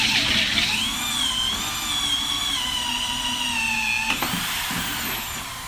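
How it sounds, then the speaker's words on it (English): A close power drill with a Morse bit drills PVC, whining steadily at high pitch for several seconds, its tone dipping slightly under load, then stopping with a brief clatter. "we're going to drill this PVC"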